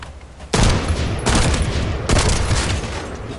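Semi-automatic gunfire from the shooter game The First Descendant: three loud, dense bursts of rapid shots, each lasting close to a second, crowding one after another with no voices.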